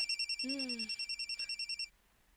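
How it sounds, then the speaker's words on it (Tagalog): A mobile phone rings alone with a steady pulsing electronic ringtone for about two seconds before cutting off, with a brief sliding beep partway through. "imong cellphone, gibagting"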